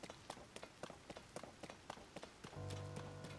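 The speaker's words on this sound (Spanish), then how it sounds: "Lo malo es que está lloviendo" Rain in a video game cave level: a run of light, rhythmic patters and drops close by, then a steady layered hum of ambient game sound takes over near the end, with no talking.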